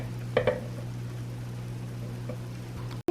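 Blintz batter sizzles in a pan greased with unsalted butter, a soft, steady frying hiss with a couple of brief clinks near the start and a short cut near the end.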